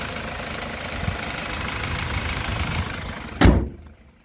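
A 2013 BMW X3 xDrive28i with a 2.0-litre four-cylinder turbo engine and all-wheel drive idles with a steady low hum. Near the end a door slams with a sharp thud, and the sound quickly drops toward quiet.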